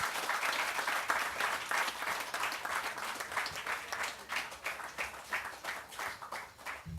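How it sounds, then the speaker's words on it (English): Crowd gathered outdoors in the afternoon for a lights installation ceremony gives a steady round of applause, moderately distant, with clapping that loosens and fades slightly near the end. "let's give yourselves a hearty round of applause there as well"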